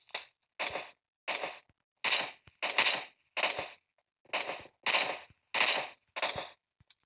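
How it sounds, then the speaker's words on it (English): An automatic gun in the PUBG Mobile video game fires ten separate single shots at a steady, unhurried rhythm, each a sharp, loud crack with a brief tail and silence between. "I know it's an automatic gun, just shooting singly."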